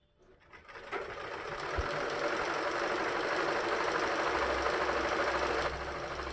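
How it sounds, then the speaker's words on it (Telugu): Sewing machine stitching fabric with a steady, continuous mechanical whir that starts up after a brief quiet moment and runs evenly at close range, with a low motor hum underneath. "మొత్తం డైరెక్ట్గా మెయిన్ కుట్టేసి తర్వాత ఖర్చుకి ఇంకో కుట్టు కలుపుకుంటాం"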